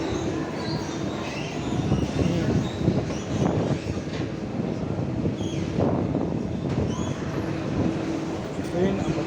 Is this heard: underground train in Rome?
yes